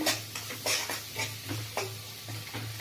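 Onion and capsicum frying on a low flame for an egg chilli masala, with a spatula stirring the pan in steady repeated strokes over a soft, continuous sizzle, close and moderately quiet.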